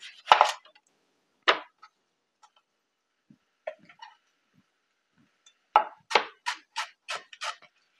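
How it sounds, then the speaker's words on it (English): Red onions being finely diced with a sharp knife on a board: scattered crisp chops, then a quick run of six or seven close, sharp knife strikes near the end, with quiet gaps between. "The red onions should be diced very fine."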